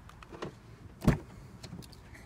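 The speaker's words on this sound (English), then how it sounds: "I'll open the car door for you." A 2017 BMW 340i xDrive M Performance car door opens with a single sharp latch click and thunk, close by, amid faint background noise and no talking.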